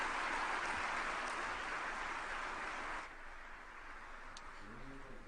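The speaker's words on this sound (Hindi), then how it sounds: "जोरदार तालियों से स्वागत माननीय प्रधानमंत्री जी का।" Applause from a crowd welcoming the Prime Minister at a public event, a steady wash of clapping that holds evenly for about three seconds, then drops to a quieter, thinner patter with a brief voice at the end.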